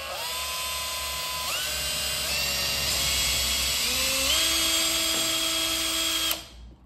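A mortice drill bores into a training board with a loud, close whine whose pitch steps up and down as it cuts, running steadily before stopping abruptly near the end.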